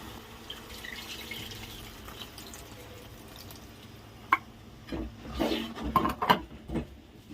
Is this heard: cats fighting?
no